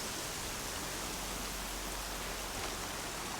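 Rain in Horizon Zero Dawn hisses steadily through trees, a dense even wash of noise with no breaks, soft overall and without voices.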